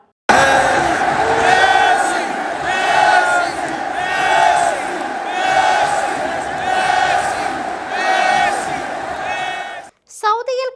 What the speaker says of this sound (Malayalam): കളി കാണാനെത്തിയ ആരാധകരെല്ലാം മെസ്സിക്ക് വേണ്ടി ആർപ്പ് വിളിക്കുന്ന വീഡിയോ സോഷ്യൽ മീഡിയയിൽ വൈറലാകുന്നുണ്ട്